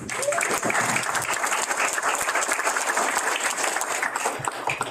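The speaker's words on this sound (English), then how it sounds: "So give yourselves a round of applause." Sustained applause from a crowd, steady and loud for the whole stretch, with no talking over it.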